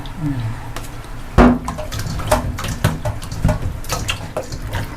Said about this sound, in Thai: ล้างสักสามสี่น้ำนะคะ